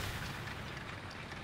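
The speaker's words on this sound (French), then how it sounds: "mais c'est quoi toutes ces explosions là" Continuous low rumble with booms and bursts from explosions in War Thunder, a tank combat video game, steady and fairly loud throughout with no clear separate blasts.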